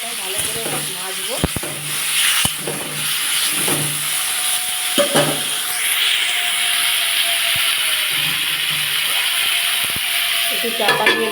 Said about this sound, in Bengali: আমি এবার টমেটোটা দিয়ে দিয়েছি। টমেটোটা আমি ভালো করে ভাজবো।